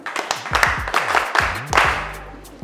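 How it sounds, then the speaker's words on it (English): Classmates in a classroom clap for a student, a short burst of uneven hand claps with a few louder strikes, close by, fading into low background noise at the end. "Can we clap for her?"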